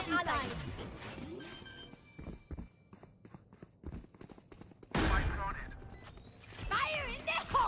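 Gunfire punching through a wall in Valorant, a tactical shooter video game: scattered sharp shots and bursts among footsteps and game effects, with a voice talking over parts of it.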